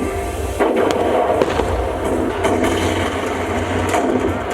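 Scattered sharp gunshot pops crack out at irregular intervals over a steady rumbling background, volleys in a staged reenactment of King Naresuan's elephant battle in Thailand.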